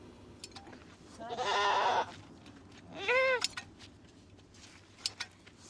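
A goat in the Moroccan desert gives two loud, wavering bleats a second or so apart over a quiet background, followed by a few faint knocks.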